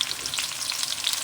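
Garlic sautés with onion in a pan, a bright, crackling sizzle full of tiny pops, steady and close throughout without any voice.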